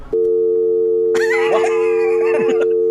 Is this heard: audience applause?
no